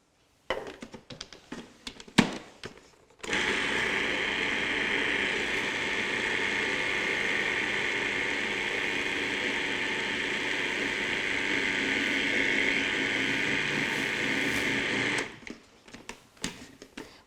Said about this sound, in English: if you use a food processor, things kind of get stuck underneath the bottom sometimes